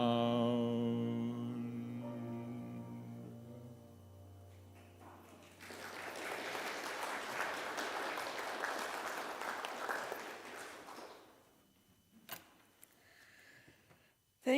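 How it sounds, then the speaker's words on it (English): Audience applause for a pair of musicians after a spiritual is sung at a Unitarian Universalist Sunday service, a steady wash of clapping that swells and holds for several seconds after the singing ends, then fades into a few scattered claps. "Let's give them a nice round of applause again."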